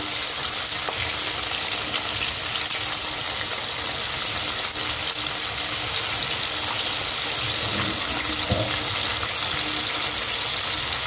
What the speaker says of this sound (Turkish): Güzelce en iyi şekilde kızartalım lütfen.